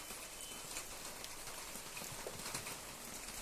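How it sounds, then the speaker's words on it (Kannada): Steady light rain falls throughout, a dense, even patter of drops on surfaces, fairly faint and continuous with no voices. "ನೋಡಿ, ಮಳೆ ಬರ್ತಾ ಇದೆ."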